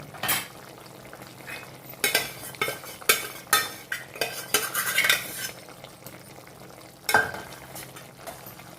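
Chicken sukka mixed with masala in a pan gives a run of close, irregular scraping and clinking strokes of a spoon against metal, busiest in the middle, over a faint background sizzle; no talk.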